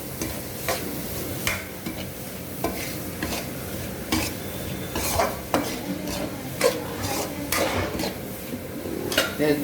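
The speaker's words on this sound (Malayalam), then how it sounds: "ഫ്രൈ ആയതിനു ശേഷം വലിയ 3 സവാള ചെറുതായിട്ട് അരിഞ്ഞത്," Three large finely chopped onions frying in a pan for Kerala-style roast prawns, with steady sizzling and repeated scraping, clinking stirs of a utensil against the metal, loud and close throughout.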